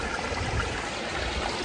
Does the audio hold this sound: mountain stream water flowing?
yes